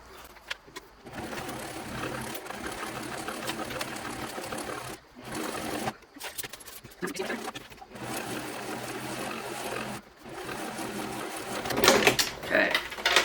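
Sewing machine top stitching a purse, running in bursts of steady mechanical whirring separated by brief pauses, with a voice speaking over the stitching.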